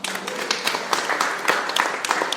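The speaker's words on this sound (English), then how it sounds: "Give our panel a round of applause." An audience applauds a panel with a burst of steady, moderately loud clapping from many hands throughout.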